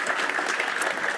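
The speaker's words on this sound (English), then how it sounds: "Great round of applause." An audience at a mining technical summit gives a round of applause, a brief, dense burst of many hands clapping evenly, loud and close, with no talk over it.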